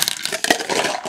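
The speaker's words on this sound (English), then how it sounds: "Put my other dice in that" Several dice rattle and clatter as they are dropped into a cup during a sports card box break, a dense burst of clicks and scrapes up close with no talk.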